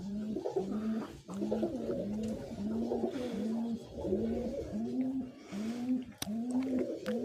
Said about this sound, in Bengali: বাকি সব কবুতরগুলো ভিতরে বসে আছে, কিছু ডিম বাচ্চা নিয়ে বসে আছে